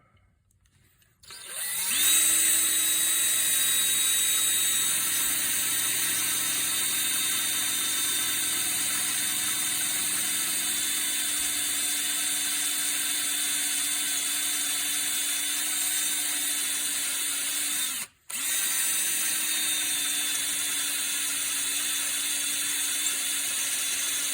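A power drill spins up and runs with a steady high whine while boring a hole in a Yamaha XS650 exhaust part, briefly cutting out once before resuming, loud and close.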